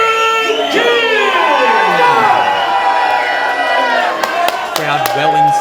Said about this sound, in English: Crowd well in support of King here tonight.